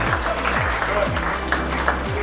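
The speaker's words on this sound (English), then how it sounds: "May I request you all to please applaud this name." An audience at a book publishing report launch event applauds a named guest, with steady sustained clapping from many people in the hall. A low rhythmic hum runs beneath it.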